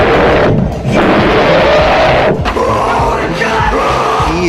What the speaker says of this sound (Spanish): era el sonido de un rugido de león, pero reproducido al revés y de forma más lenta.